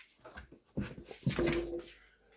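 A dog whimpers and whines in short, breathy bursts at close range while trying to climb onto a person's knee, quiet and intimate indoors.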